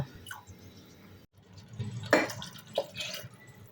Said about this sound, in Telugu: 2 గ్లాసుల నీళ్లు పోసుకొని మరొక 1/2 గ్లాస్ పోస్తున్నాను.